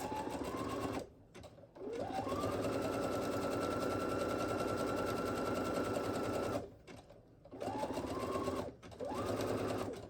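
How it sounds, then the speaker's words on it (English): A sewing machine runs a zigzag stitch over floss laid on fabric to gather it, whirring steadily and close, with two short pauses where the motor stops before starting up again. "I'll just sew all the way up down, zigzagging across that floss"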